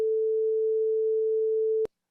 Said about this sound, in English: Right now it's set to 440 hertz, which is a standard frequency for tuning musical instruments.